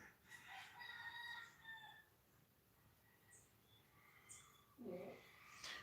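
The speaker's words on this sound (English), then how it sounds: "somebody next door have a whole heap of rooster" Roosters next door in Jamaica crow in several drawn-out calls, one early and another near the end, heard from a short distance and fairly faint against quiet background.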